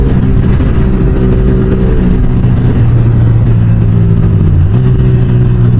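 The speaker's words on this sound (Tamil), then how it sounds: "கியர் கட்லாம் பண்ணும்போது பயங்கரமான ஒரு எக்ஸாஸ்ட் நோட் ஆக்சுவலாக வந்து கிடைக்குது நமக்கு" Modified exhaust on a Yamaha R15 V4 motorcycle, a loud, close engine drone that rises and falls as the rider shifts gears, with a sharp pitch drop near the end.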